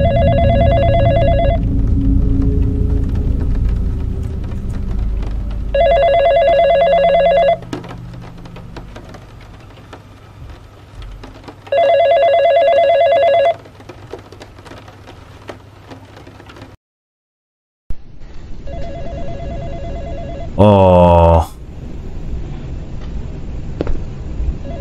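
A mobile phone rings in The Ring: Sadako horror video game, a repeating electronic ringtone in four separate bursts separated by low ambient drone, with a brief silence and a rising warble near the end.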